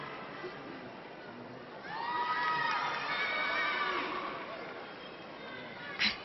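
A crowd at a women's college gymnastics meet at the Chrysler Center swells into loud cheering and whooping during the final rotation, a commentator's voice over the arena noise, then the cheers fade back.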